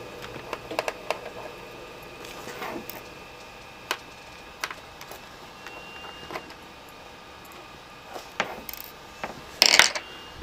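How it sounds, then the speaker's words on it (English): Small screws holding the CD drive of a Sony Vaio laptop are unscrewed, giving faint, sparse ticks and clicks with quiet gaps between them and a louder scrape near the end, close up and with no talking. "these two screws here holding the CD drive."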